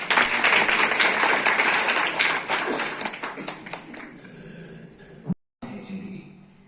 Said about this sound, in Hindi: तालियां एक बार जोर से